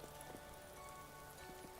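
Rain falls steadily in the video game Vintage Story, a dense, continuous patter on surfaces with scattered individual drops and no voices.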